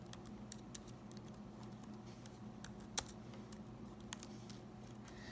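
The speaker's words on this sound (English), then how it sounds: "I'm typing with one hand right now" A computer keyboard is typed on slowly with one hand, scattered individual key clicks at an uneven pace over a quiet room hiss, with one sharper tap standing out.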